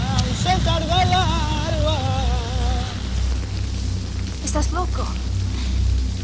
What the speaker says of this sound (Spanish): Me gusta la lluvia, porque parece que el cielo también llora.